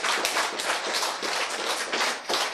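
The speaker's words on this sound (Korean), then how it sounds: "박수." An audience at a lecture applauds with dense, steady clapping from many hands. The clapping is fairly close and fills the whole short stretch without a break.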